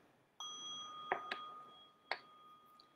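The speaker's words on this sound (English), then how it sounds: "I'm going to ring our bell." A small bell rung three times in a quiet room, each bright ding ringing out briefly, the first strike followed closely by a second and a third after a short pause.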